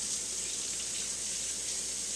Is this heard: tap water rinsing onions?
yes